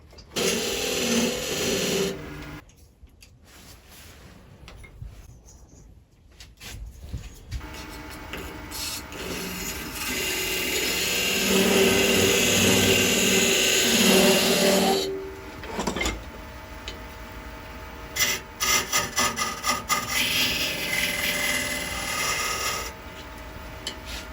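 Wood being turned on a lathe for a magician's ball and vase prop gives a whirring motor hum and scraping, grinding tool contact that comes and goes, with short pauses and rising cutting passages over about twenty-four seconds.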